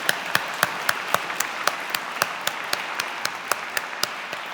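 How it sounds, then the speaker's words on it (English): Scattered, sparse clapping from a small audience applauding review panelists at an awards ceremony, a dozen or so sharp claps spread over a few seconds with no talk. "let's take a minute to give them a round of applause to acknowledge their work"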